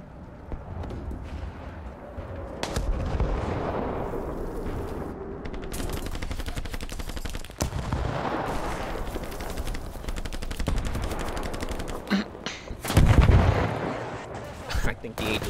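Tank battle in War Thunder with a C2A1 MEXAS, booming artillery rounds and rattling gunfire in repeated bursts, a heavy blast near the end, with a player's voice talking over the combat.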